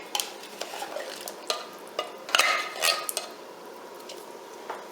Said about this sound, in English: Now all of our ingredients are in here. Stir it up a little.